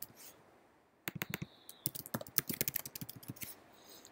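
Account details are typed on a computer keyboard after a second of near silence: a quick, uneven run of crisp key clicks, close and soft.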